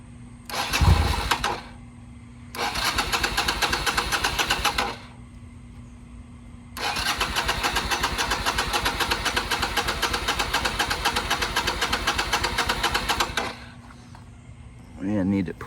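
A Yamaha XV250 motorcycle engine cranks on choke in repeated long bursts of starter churning, separated by short pauses, close and loud.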